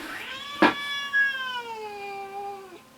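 An annoyed house cat on a homestead, just back from traveling, lets out one long drawn-out meow that bends downward and fades, close and clear in a quiet room.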